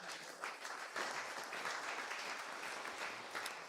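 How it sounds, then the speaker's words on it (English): An audience applauds to welcome cowboy jazz guitarist Bruce Forman, a steady wash of many hands clapping, moderately distant and even throughout with no voices over it. "So big round of applause and a welcome to Mr."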